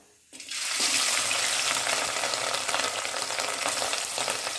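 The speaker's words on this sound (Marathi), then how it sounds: "सहा चमचे तेल घातले मी। यात आता मटण घालून घेऊया।" Mutton pieces drop into hot oil in a pan for Kolhapuri mutton, setting off a sudden loud, close sizzle that continues as a steady crackling hiss.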